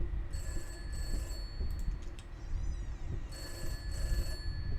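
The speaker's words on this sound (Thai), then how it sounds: "เสียงโทรศัพท์" A telephone rings in the indie horror game Peter's House, two bursts of trilling electronic ringing separated by a pause, over a low rumbling ambient drone and a brief shimmering effect.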